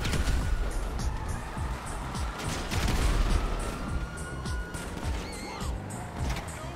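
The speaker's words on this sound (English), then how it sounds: "He just shooting me with the fucking ray gun." Ray gun blasts in GTA Online freemode fire in a busy, overlapping string of zaps and impacts, with crashes and vehicle noise mixed in at close range and loud throughout.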